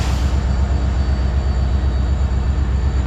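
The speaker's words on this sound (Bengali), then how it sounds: "আমরা বেরিয়ে পড়লাম, ট্রেন ছেড়ে দিল।" A train pulls out of a station in Mizoram, heard from on board as a loud, steady low rumble with faint rhythmic rattling throughout.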